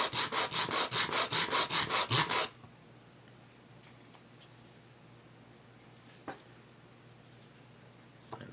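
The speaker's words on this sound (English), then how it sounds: "I'm going to sand the end smooth." Rhythmic sanding of the end of a wooden Native American style flute, about a dozen quick rasping strokes close up, then it stops, leaving near silence with a few faint knocks.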